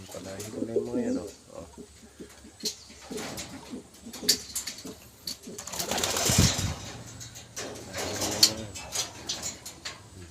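Low cooing from a breeder's pigeons comes in repeated bursts alongside a voice talking, with a brief flutter of wings mixed in near the middle.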